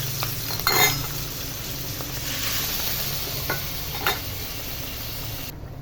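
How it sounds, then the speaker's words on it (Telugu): Raw prawns fry in hot oil in a pan, giving a steady, close sizzle broken by a few sharp clinks of stirring. "పచ్చిరొయ్యలు నూనెలో ఆయిస్తున్నానండి."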